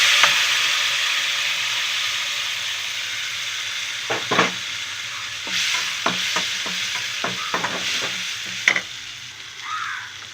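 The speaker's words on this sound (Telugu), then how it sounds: "ఇప్పుడు మనము రుబ్బు పెట్టుకున్న కరివేపాకు పేస్ట్ వేద్దాం." Curry leaf paste frying in hot tempering oil for a traditional tamarind pulusu, a steady close sizzle and hiss with several sharper crackles and spits as the paste hits the oil, no voices.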